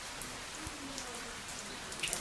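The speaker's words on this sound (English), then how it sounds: "Heavy rains, heavy rains." Heavy rain during Hurricane Patricia, a steady faint hiss of falling water with scattered drop ticks and a brief low thump, no talking.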